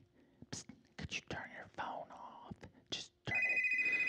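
A mobile phone ringtone breaks in with steady, loud electronic tones after whispered talk and light rustling during a kids' magic show.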